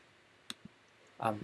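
A computer mouse click accepting a data entry in flowsheet software, two small sharp clicks close together, followed by a brief burst of speech.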